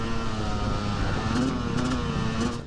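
A 1990 Kawasaki KDX 200 dirt bike races hard, its two-stroke engine droning steadily up close with a rising whine as the rider pushes on, continuous and loud for the whole stretch.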